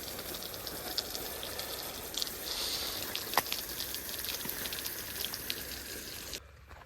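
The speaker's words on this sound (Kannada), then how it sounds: "ನೀರು ಹಿಡಿಯೋ ಸ್ಟಾರ್ಟ್ ಮಾಡಿದ್ದೀನಿ" Water running steadily out of a tap or hose to fill a container outdoors on a farm, a constant hissing splash that lasts several seconds and then cuts off.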